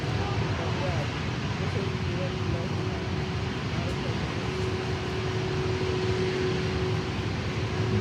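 An Atlas Air cargo plane lands at Miami airport, its engines a steady loud broadband roar with a low rumble throughout; a voice talks over it.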